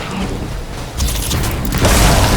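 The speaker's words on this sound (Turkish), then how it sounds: "Daha uzak bir mesafede patlama oldu." A grenade goes off in a first-person shooter video game, a loud booming burst that swells and then rolls on into a second heavy blast amid battlefield noise.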